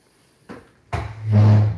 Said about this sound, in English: It's my chair against the wooden floors.